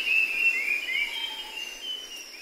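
A faint, steady high-pitched drone of tropical cicadas with thin whining tones sliding over it, continuous and distant, with no voices, in Cambodia.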